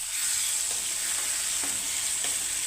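A mor kali mixture being sautéed and stirred in a pan for a South Indian dish, giving a steady close sizzle with occasional soft scraping strokes throughout.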